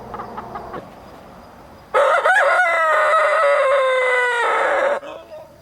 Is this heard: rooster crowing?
yes